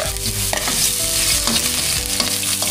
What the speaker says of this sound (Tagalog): Ngayon po maglagay na tayo ng mantika. Tapos lagay na po natin yung ating bawang.